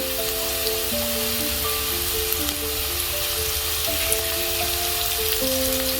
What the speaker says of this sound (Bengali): দেখো পেঁয়াজ আর লঙ্কাটা একটু ভেজে নিয়েছি